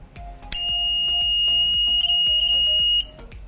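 A homemade fire alarm buzzer set off by a lighter flame sounds a loud, steady high-pitched electronic tone that starts abruptly, holds for about two and a half seconds, then cuts off.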